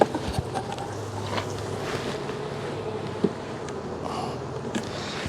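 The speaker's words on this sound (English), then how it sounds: "Look at them bees." Honey bees buzz around the frames of an opened hive box during an April inspection, a steady close droning hum with some wind noise and a few handling knocks.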